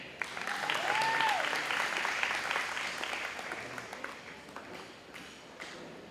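Dense, steady applause from a ceremony crowd honouring graduating students at a dual language bi-literacy certification, filling the hall and slowly fading, with a brief whistle early on.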